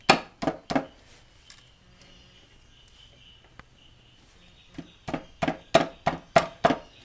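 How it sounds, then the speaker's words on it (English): Wood chiseling on a broken chair leg being repaired: a quick burst of three sharp chops, a quiet pause with faint rustling, then a steady run of about eight crisp, close strikes. "I've been working on it with the chisel"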